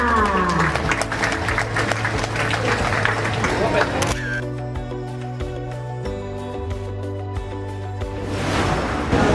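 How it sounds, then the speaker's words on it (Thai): Applause breaks out from an audience at a ceremony at a food fair, with loud dense clapping over crowd noise and camera clicks, easing after a few seconds and swelling again at the end. "ขอเสียงปรบมือด้วยค่ะ"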